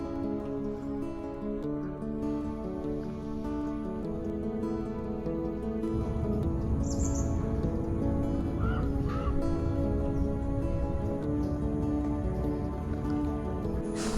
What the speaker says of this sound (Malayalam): കിളികളുടെ ഒച്ച കേട്ടോ